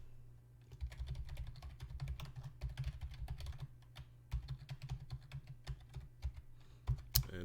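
A username is typed on a computer keyboard, heard as quiet, close, irregular key clicks in short bursts with brief pauses, no talking.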